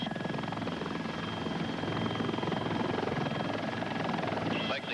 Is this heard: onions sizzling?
no